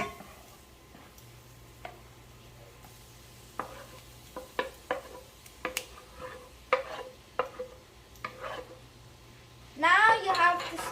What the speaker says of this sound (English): Now you have to stir this until fragrant.